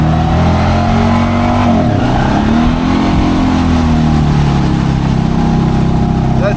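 Honda Pioneer 500 side-by-side revving off-road through deep swamp ground, its engine loud and close with a steady drone that dips and swells as the throttle changes, running continuously with no talk.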